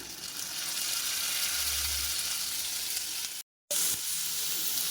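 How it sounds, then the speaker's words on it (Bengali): Grated coconut frying with panch phoron five-spice in a pan gives a steady, loud hissing sizzle throughout, broken by a brief gap near the end before the sizzle resumes, with no voices. "পাঁচফোড়নের সাথে সাথে এবার নারকেলটাও ভেজে নেব"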